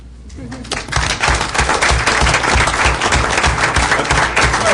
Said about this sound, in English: Hold your applause